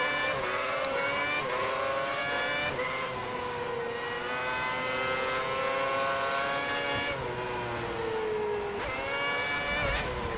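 A Formula 1 car in the racing game F1 2010, running a 2009-season mod at the Malaysian circuit, screams loudly and continuously with rising whines as it upshifts through the gears.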